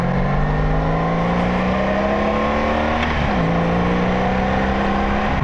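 Motorcycle engine running rough on a failing Chinese fuel pump, a steady close drone with harmonic tones that dip and waver around the midpoint before settling again, heard alone without talk.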